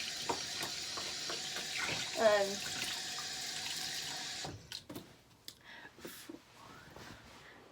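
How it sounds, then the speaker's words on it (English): A tap runs steadily into a basin of water where cosplay wigs are soaking, a continuous close rush that stops abruptly, followed by light handling noises and a brief spoken word. "I'm just gonna add a bit of more water"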